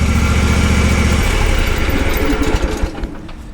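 A Kawasaki FR730V small engine freshly re-ringed and re-honed runs steadily at a loud, close idle, its low throbbing pulse changing slightly partway through before easing off.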